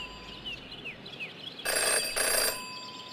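A telephone rings in the Jenny LeClue detective video game, two loud bursts of an electronic bell ring following soft chirping ambience, with no talk over it.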